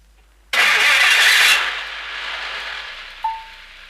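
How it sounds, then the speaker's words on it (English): A 1958 car engine cranks and catches with a sudden loud burst, then settles into a steadier running roar that gradually eases, followed by a brief tonal squeal near the end. "So let's start the engine and warm it up to normal operating temperature."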